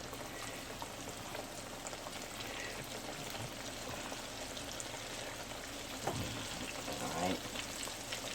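Hush puppies fry in hot oil with a dense, steady bubbling hiss, close and continuous, with a brief swell near the end as more batter drops in; a voice speaks a single short word.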